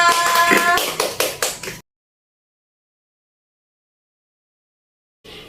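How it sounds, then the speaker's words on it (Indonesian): A few claps from a classroom group, sharp and close, fade out within two seconds, followed by silence and a brief return of room sound near the end. "Tepuk tangan untuk kita semua"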